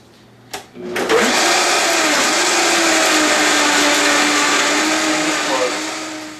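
An electric blender whirls coconut with warm water for a Goan tilapia fish curry, starting after a click and running as a loud, steady, close grinding whine for several seconds before easing off.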